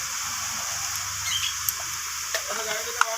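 Cabbage being stirred in a pan with turmeric, red chilli powder and cumin powder for a Kashmiri-style cabbage ghonto, giving a soft, steady sizzle broken by a few faint scraping clicks as the spatula moves.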